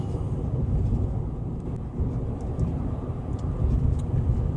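A 2024 Toyota Land Cruiser rolls along with a steady low engine hum and continuous road rumble from inside the cabin, with no talking.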